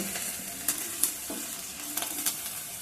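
Ginger, garlic and green chillies frying in a pan, a steady sizzle broken by a few sharp clinks and scrapes as they are stirred, with no one talking.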